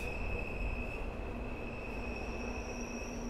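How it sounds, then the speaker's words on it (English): Train wheel flange squeal on a London Underground Bakerloo Line train in Train Sim World 3: steady high-pitched squealing whine held over a loud, continuous rumble of rolling wheels. "Proper flange squeal there."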